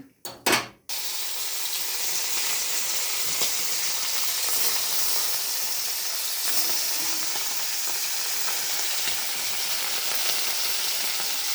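Koi fish caught from a pond frying in hot oil, a steady loud broadband sizzle that holds evenly after a few sharp bursts at the start, with no talking.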